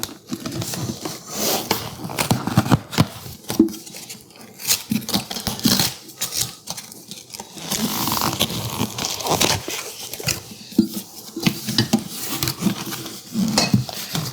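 A 4.3 quart saute pan and its lid handled on a kitchen counter, with repeated close metallic clatters, knocks and plastic crinkling in an uneven rhythm throughout.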